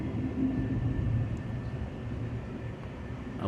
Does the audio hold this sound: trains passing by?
yes